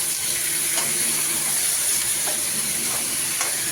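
Potatoes and kochur loti sizzling with garlic and green chilli in a pan, a steady, even frying hiss that stays close and unbroken throughout, without any voices.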